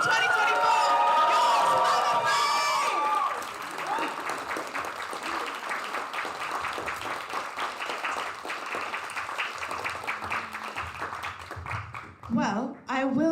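At a Splatoon 3 grand finals LAN tournament, a crowd claps and cheers loudly for the winners, an excited roar easing into steady clapping that fades as a presenter speaks.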